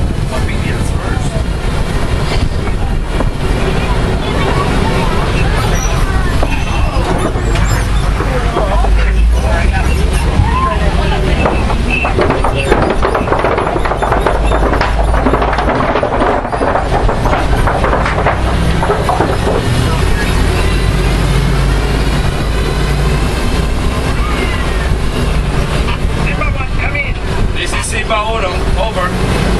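An open safari truck on a Disney African safari ride rumbles along continuously, its engine and road noise forming a steady wash beneath constant passenger chatter and an amplified voice talking throughout.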